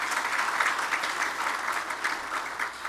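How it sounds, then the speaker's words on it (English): An audience at an awards dinner applauds steadily, dense hand clapping filling the room at a constant level from start to finish with no voices over it. "let's give them a round of applause as well"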